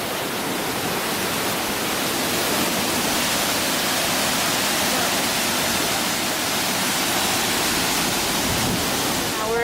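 Blackwater Falls roars continuously, a dense, steady rush of falling dark water with no pauses, fairly close and unbroken throughout.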